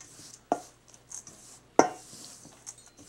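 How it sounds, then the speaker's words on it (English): Cheddar cheese being worked into biscuit dough in a bowl, heard as two distinct knocks of a utensil against the bowl among softer scraping and rustling, close and quiet with no voices. "Now I'm going to add the cheddar cheese. And just mix that through."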